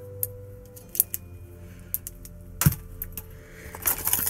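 Metal bonsai scissors are picked up and handled among other tools in a toolbox, giving a series of sharp clinks, ticks and jangling taps, scattered irregularly and close by.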